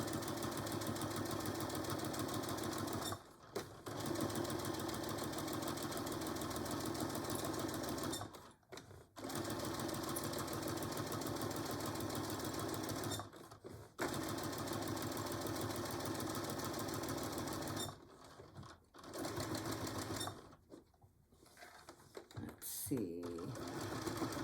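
A sewing machine back stitching a pillow cover, loud steady rapid whirring in long runs broken by brief pauses, with a voice speaking at times.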